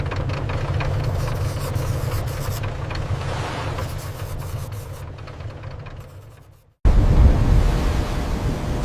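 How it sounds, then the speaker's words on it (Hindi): Rough sea waves roar in a steady, broad wash that thins out and briefly drops away, then surges back louder. "समुद्र उग्र था।"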